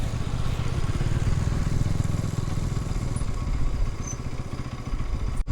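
A motorcycle engine runs on a snowy mountain road, a steady loud close rumble with rattling clatter throughout, ending in a sharp knock.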